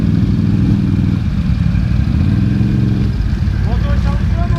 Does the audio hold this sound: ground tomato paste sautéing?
no